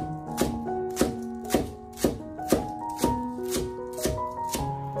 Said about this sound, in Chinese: 准备一根大葱，将它1分为2，再2分为4，直接把它切成葱花